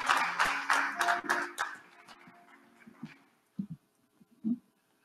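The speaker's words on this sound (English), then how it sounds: "would you all clap your hands for the elder Demetrius Tolefree?" A Sunday church service audience claps hands, starting as a loud burst of mixed clapping that quickly thins into scattered claps and a few isolated sharp claps near the end.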